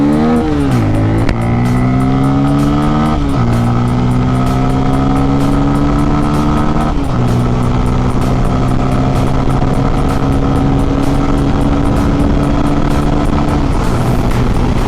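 A Bajaj Pulsar N250 motorcycle revs hard through repeated gear changes, the engine note climbing steadily then dropping at each shift, loud and close throughout as the bike accelerates on the road.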